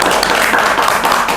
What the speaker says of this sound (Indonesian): tepuk tangan dulu teman-teman buat Kak Citra dan Mister Puisi